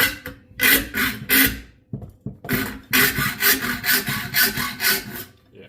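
A hand saw cuts a card scraper profile from larger steel stock, rapid rhythmic rasping strokes in loud close bursts with a short pause midway, then a faster run of even strokes.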